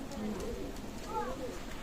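A Pakistani teddy pigeon gives a few soft, low coos close by, partly under a voice speaking over it.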